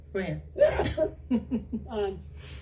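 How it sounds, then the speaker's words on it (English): A person sneezes during a conversation, a couple of sharp bursts standing out among talking voices, close and fairly loud. "Hold on 1 second. I'm going to sneeze."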